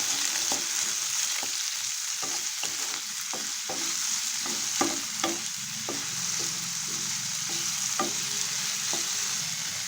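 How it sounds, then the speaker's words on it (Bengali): Sliced onion and potato fry in hot oil with bay leaves in a pan, a steady sizzle broken by a run of sharp scraping knocks as a utensil stirs against the pan. "পেঁয়াজের আলুটা একটু ভেজে নেবো"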